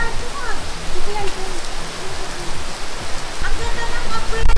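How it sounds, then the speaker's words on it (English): Rain falls steadily on hard surfaces during a trip back to Hong Kong, a continuous hiss heard near the garage, with people talking over it at times. "it's raining"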